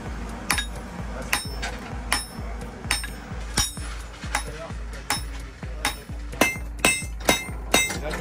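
A hammer strikes hot iron crossbow bolt heads on an anvil in a steady rhythmic series of sharp ringing blows, roughly two per second, close and clear with no talk.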